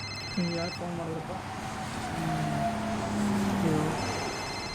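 A telephone rings with bright electronic tones at the start and again near the end, over a steady low background of music-like tones.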